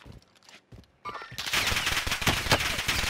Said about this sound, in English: Been shot out from behind.